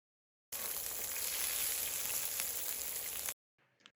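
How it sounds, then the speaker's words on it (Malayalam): Chopped green chillies fry in a pan with a steady, close crackling sizzle that runs for about three seconds and then cuts off abruptly. "എന്നിട്ട് ഇത് നമുക്ക് നന്നായിട്ടൊന്ന് ഫ്രൈ ചെയ്തെടുക്കണം"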